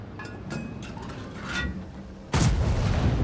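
Artillery fire in the World of Tanks video game: scattered distant gunfire pops, then one loud, close booming blast with a long rumbling tail.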